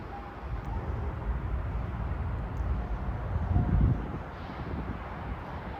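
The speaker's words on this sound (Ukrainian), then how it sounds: "шум великого міста шум вітру" Steady wind rushing over a constant low rumble of distant big-city noise, with a brief swell in the low hum partway through.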